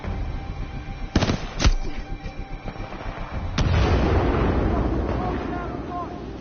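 A grenade goes off in Titanfall 2 after a couple of sharp gunshots, with a loud booming blast followed by a long rumbling tail, while a voice talks over the game sounds.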